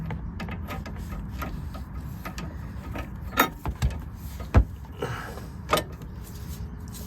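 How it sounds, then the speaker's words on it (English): A torque wrench with an Allen head tightening a coilover nut on a 2003 VW Golf MKIV, giving close, dry mechanical ratcheting clicks with a few louder metallic clunks and little else around. "I'm gonna use my torque wrench with the Allen head."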